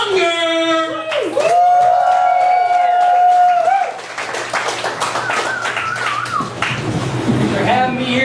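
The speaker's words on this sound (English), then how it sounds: "I want everybody to give a big round of applause for Kris Monger!" Clapping rises from an audience at a stand-up comedy show, following a burst of loud tonal music with sweeping whistle-like notes. The claps are uneven and mixed with the music and crowd noise.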